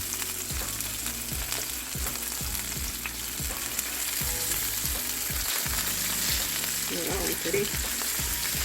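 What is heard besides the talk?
chicken skin frying and crisping in a pan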